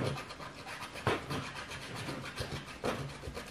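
Something rubs and scratches against a surface at close range in irregular strokes, with two sharper scrapes standing out among the softer rasping.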